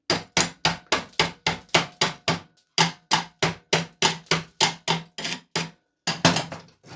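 Sharp metal hammer strikes chip slag off a freshly laid drag weld bead on steel, landing in a quick steady series of loud, close blows with a couple of brief pauses.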